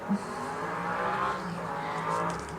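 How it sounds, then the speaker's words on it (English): Busy street traffic on a Sunday afternoon rumbles as a steady, moderately distant wash of car engines and tyre noise, with a brief sharp sound near the start and no talk. "earlier this noise was not happening with this crazy traffic"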